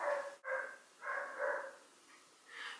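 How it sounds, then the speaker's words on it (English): Neighbour's dogs barking in the distance: a few faint, muffled barks spread unevenly over a few seconds against a quiet background. "right now other dogs are barking"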